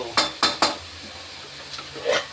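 Three quick metallic clanks close together as a lid goes onto a cooking pot of leg soup, then quiet kitchen background and a softer clink at the end.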